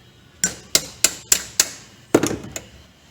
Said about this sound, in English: you almost always need a hammer to get it started